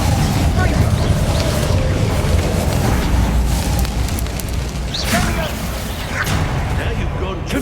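Constant loud spell combat in Hogwarts Legacy, with Confringo and Bombarda blasting spells booming and bursting over a steady rumbling backdrop. A voice is heard partway through.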